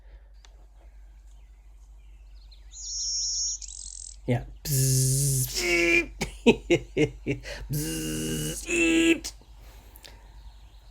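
Bird song from a recording is played back at home, heard as a few loud bursts of calls after a short high whistle, with a brief spoken word nearby.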